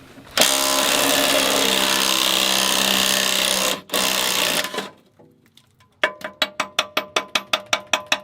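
A pneumatic impact wrench removes a part from a motorcycle, with a loud sustained whirring burst of about four seconds, a brief pause, then a run of about ten sharp rapid hammering impacts close by.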